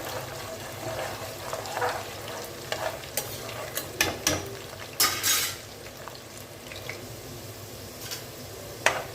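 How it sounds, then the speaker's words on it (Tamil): Garlic sautéing in hot oil until browning while being stirred, a steady soft sizzle with irregular scraping stir strokes, close up and without talk. "இப்போ பாருங்கள் பூண்டு வதக்கிட்டு இருக்கேன் பூண்டு நல்லா ஒரு ப்ரௌன் கலராக வர வரைக்கும் நம்ம வதக்கி கொடுக்கலாம்"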